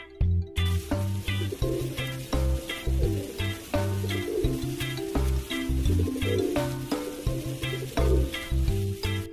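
A pigeon coos in a steady repeating rhythm of low, soft calls, close and clear, with no voices.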